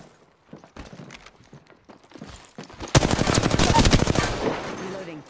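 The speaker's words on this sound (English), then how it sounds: "Being shot at from behind." Burst of rapid automatic gunfire from behind in Apex Legends, erupting suddenly after quieter footsteps and movement, then continuing as a loud, dense rattle of close shots.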